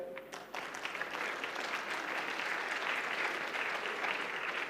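An awards ceremony audience applauds an honoree, a dense, even burst of clapping that starts after a brief lead-in and continues steadily at a moderate level for several seconds.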